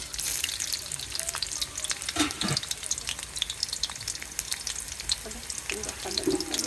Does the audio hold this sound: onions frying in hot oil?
yes